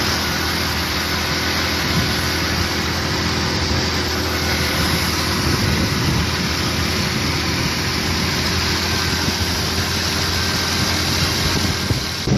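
Super Star 70cc petrol motorbike engine running steadily while ridden with two people aboard, a continuous close drone with wind rush and no talk.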